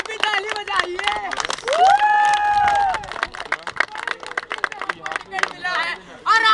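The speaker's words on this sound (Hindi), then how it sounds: "आप भी ताली बजाइए" Audience at an outdoor street play clapping rhythmically while a performer sings and chants loudly over them, with the clapping continuing under the voice.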